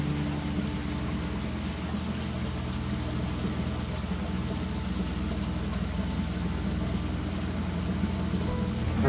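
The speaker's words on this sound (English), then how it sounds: "let's go up to 6000 watts, the maximum output of the engine." Electric motor of a solar-powered boat running at its maximum 6000-watt output, a steady, even drone with a low hum that holds constant throughout, with no talk.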